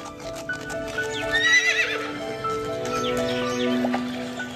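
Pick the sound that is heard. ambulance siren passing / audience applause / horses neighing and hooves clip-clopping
horses neighing and hooves clip-clopping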